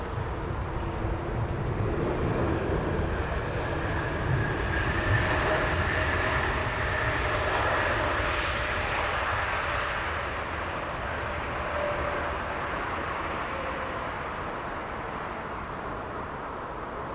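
A KLM airliner arriving to land at Heathrow Airport roars past in the evening, its broad engine rumble loudest early on and then slowly easing as it moves away, with no voices.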